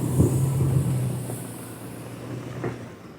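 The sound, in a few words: 2014 Fiat Punto car reversing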